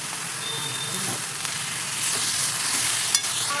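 Pumpkin leaves with turmeric and salt stir-fried in a pan, a steady soft sizzle and scraping that runs throughout at an even level, with one brief clink near the end and no talking.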